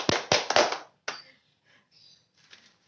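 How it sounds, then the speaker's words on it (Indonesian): A handful of sharp hand claps ring out close by during a health education session, three or four quick slaps followed by a lone clap and faint scattered sounds fading into quiet. "Tepuk tangan dong."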